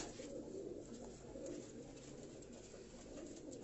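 Soft, faint cooing from pigeons kept in Karachi, a continuous low murmur with no talking.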